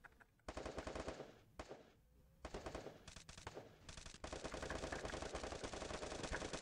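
Rapid automatic gunfire from the video game Free Fire, loud dense bursts of shots broken by short pauses and then a long sustained volley.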